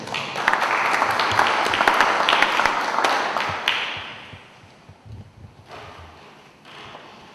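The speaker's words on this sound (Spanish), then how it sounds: "Recibimos con un fuerte aplauso al doctor César Solís Macedo." An audience at a law lecture for the Lima bar association claps warmly to welcome a speaker, with dense applause for about four seconds before it thins out into scattered claps and quiet room noise.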